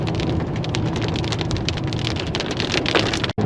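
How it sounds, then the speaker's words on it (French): Rain pours down steadily on a road trip toward Saltillo, a dense, even hiss of drops drumming on surfaces close by, loud and continuous with no talk. "Oh, il pleut!"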